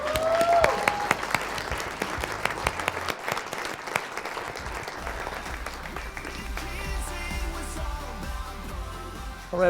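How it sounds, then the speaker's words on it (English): Sustained applause from an audience at a community gathering night, steady clapping throughout with a burst of cheering near the start and rising again at the end, no speech. "Give her a big round of applause."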